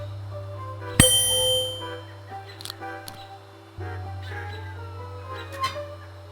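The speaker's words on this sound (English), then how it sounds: "There must be another way to make the bell ring." A single bright bell strike in the adventure game Willy Morgan and the Curse of Bone Town rings out and decays over a low steady hum, followed by faint clicks.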